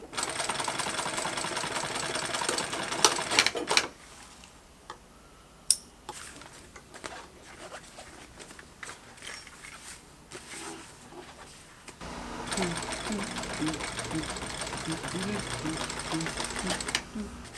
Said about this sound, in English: I'm just going to sew this and then top stitch it.